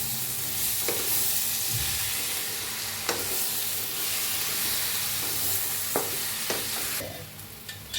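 Potato and brinjal sizzle steadily in a hot pan with crushed peanut powder while a spoon scrapes and stirs at intervals, close and without talking.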